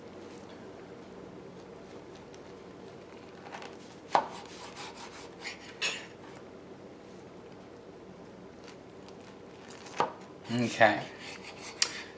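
A knife cuts a pineapple into four pieces, producing a few scattered, moderately loud thunks and scrapes against the board over a quiet background, with a short spoken word.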